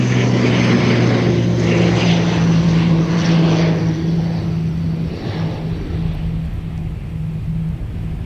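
An incoming propeller airplane, flight 371 from Wellington, passes as a loud, steady droning engine roar with a strong low hum that slowly eases off, and no one speaks.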